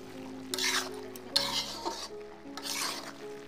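A jackfruit seed, bean, cabbage and potato fry gets stirred in a pan, giving three bursts of scraping and sizzling with a steady low hum between them, close and moderately loud.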